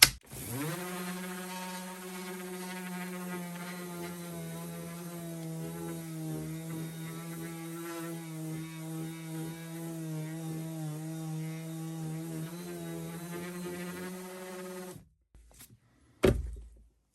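A Parkside PAEXS 20-Li cordless eccentric sander whines steadily at maximum speed for about fifteen seconds, then cuts off, followed by a couple of brief knocks.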